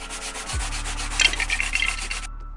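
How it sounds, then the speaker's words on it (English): Steady rhythmic sanding of a 3D-printed minifigure body, a dry scratchy rubbing repeated in quick strokes at close range, stopping near the end. "that body's definitely gonna need some sanding."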